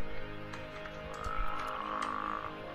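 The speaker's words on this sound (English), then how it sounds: "Bottled frog." A bottled frog croaks in a video game, a faint low croak over a steady ambient music bed with a few soft clicks.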